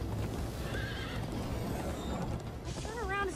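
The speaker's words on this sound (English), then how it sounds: "You darn horses, come here." Horses neighing in the Minecraft Story Mode video game, two bright whinnies heard over a busy background of hoof clip-clop and game noise.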